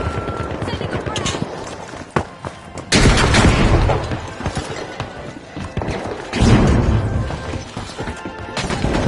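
A frag grenade explodes in the shooter game The Finals, a loud booming crash amid gunfire and debris, followed by another heavy blast, with a commentator's voice running underneath.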